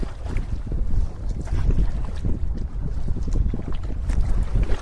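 Strong wind gusting over a lake during a backcountry canoe trip in Quetico Provincial Park, a steady rough buffeting with low rumble from wind hitting the microphone, no voices.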